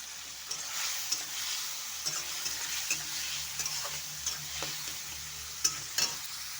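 Tomato frying in a pan while being stirred, a soft steady sizzle with a low hum beneath and irregular spatula scrapes and taps.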